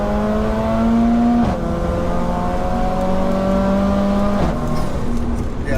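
Big-turbo Mercedes A45 AMG with Bilstein suspension and a screamer pipe, accelerating hard through the gears, a loud, close engine note climbing in pitch with two brief dips at the shifts.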